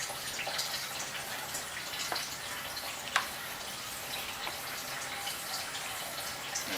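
Coolant draining from a 2001 Honda Civic, a steady quiet trickle and splash of liquid running on without a break, with a few small drips and clicks standing out.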